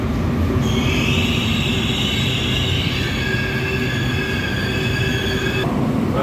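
A commuter train pulls into a station with a loud, continuous rumble and a high metallic wheel squeal that holds steady for several seconds before dropping away, close and constant throughout.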